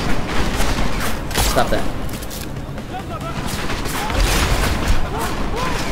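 Enemy gunfire in Deus Ex: Mankind Divided, overlapping bursts and sharp shots crackling repeatedly over a steady din, loud and close, while a person speaks briefly over the shooting.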